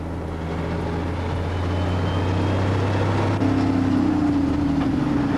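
A dump truck engine runs in high range gear, a steady, loud low drone with a deep rumble throughout that builds slightly and climbs a little in pitch toward the end.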